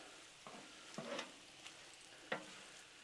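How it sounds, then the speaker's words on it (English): Chicken stir fry on a Blackstone griddle is stirred and spread, giving a soft sizzle broken by a few scraping spatula strokes, fairly quiet and without talk. "All right, now let's stir this in."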